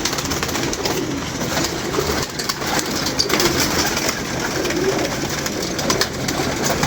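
Pigeons coo in a loft, soft throaty calls repeating over a steady background din of birds, close and continuous with no one talking.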